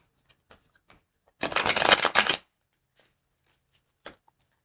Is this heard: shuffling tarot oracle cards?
yes